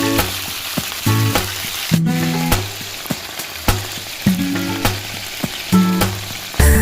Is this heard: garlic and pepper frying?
yes